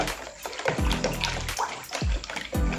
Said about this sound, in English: Make sure you stir thoroughly to dissolve your sugar thoroughly.